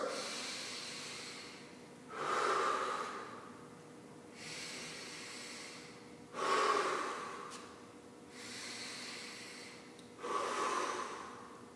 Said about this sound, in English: Set her down, and 3 breaths.